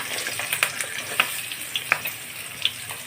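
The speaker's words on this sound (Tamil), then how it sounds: "கடாயில் எண்ணெய் ஊற்றி வெங்காயம் போட்டுக்கோங்க" Onions frying in oil in a kadai crackle and sizzle steadily up close, with scattered sharp pops over a continuous hiss and no voices.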